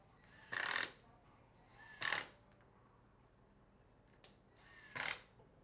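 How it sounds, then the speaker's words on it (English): A power drill drives screws through cabinet door hinges into the door, three short whirring bursts spaced apart, close and distinct against a quiet room with a faint tap between. "use a drill and prepackaged screws to fix"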